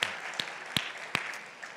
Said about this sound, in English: Like a special applause for them.